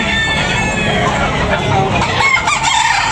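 Roosters for sale in Tabunok, Talisay, Cebu, Philippines, crow amid a dense clamor of clucking chickens, loud and continuous with no pause.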